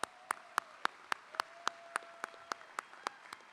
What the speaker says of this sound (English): Let's join in a round of applause for faculty and staff.